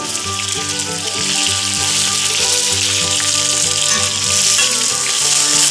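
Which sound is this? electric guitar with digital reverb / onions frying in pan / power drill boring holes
onions frying in pan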